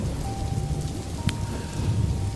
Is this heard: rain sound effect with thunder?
yes